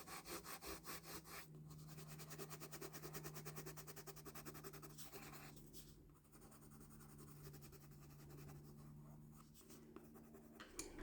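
A watercolor pencil in deep brownish red is rubbed back and forth over paper while a pomegranate's peel is shaded, giving a soft, continuous scratchy whisper with a faint low hum behind it.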